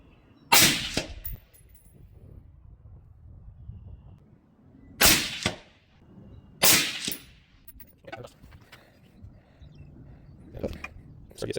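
A suppressed 5.56/.223 rifle fires at an outdoor range: three sharp, loud cracks spaced a few seconds apart, each with a short tail, then fainter clanks and knocks.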